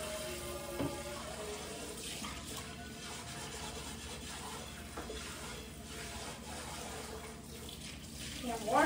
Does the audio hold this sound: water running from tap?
yes